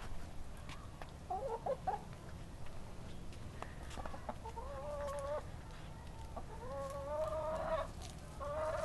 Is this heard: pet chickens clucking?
yes